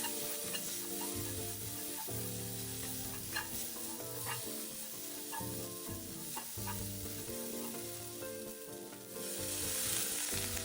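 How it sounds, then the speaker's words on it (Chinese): Spice paste is stir-fried in a wok over medium-low heat, with a continuous sizzle and repeated scraping strokes of the spatula. No one speaks. "中低火继续将香料糊炒干、"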